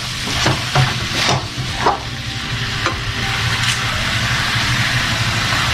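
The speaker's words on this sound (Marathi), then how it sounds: "आता यात बॉईल केलेली मॅगी घालतोय. याला छान हलक्या हाताने हलवून घेतोय." Boiled Maggi noodles and masala are stirred in a hot pan, with soft scraping strokes and a few distinct spoon scrapes over a steady sizzle.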